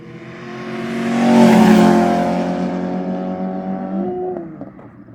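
A 2012 Honda Civic fitted with a newly installed aftermarket exhaust and resonator revs up close and loud, its engine note climbing and holding before easing back and settling near idle.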